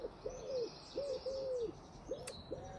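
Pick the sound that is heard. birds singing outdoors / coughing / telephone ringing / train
birds singing outdoors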